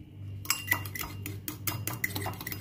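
A spoon stirs a tomato and bicarbonate of soda mixture in a bowl, making quick, light metallic clinks and scrapes in an irregular rhythm, close by and fairly quiet.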